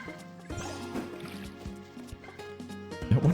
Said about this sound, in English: we gotta water our crops still